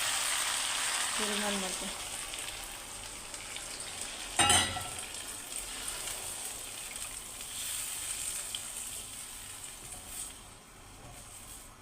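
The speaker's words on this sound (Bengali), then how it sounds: "কষানো শেষ, এখন আমি জল দিয়ে দেবো তার ভিতরে" Water poured into frying beef curry brings a sharp burst of hissing over a continuous close sizzle with stirring. Someone speaks briefly.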